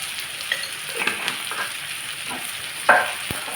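Potato pieces in a pan with a light sprinkle of turmeric, giving a soft steady sizzle with stirring scrapes and one sharper clink of the utensil near the end.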